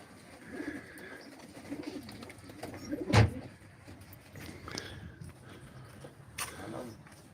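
Pigeons coo softly at a live pigeon auction, low murmuring calls under background noise with a sharp louder thump midway and scattered faint sounds.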